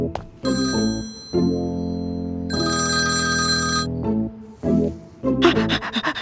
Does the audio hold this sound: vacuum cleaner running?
no